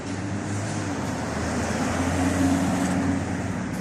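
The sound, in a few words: Aston Martin DBX car driving past on street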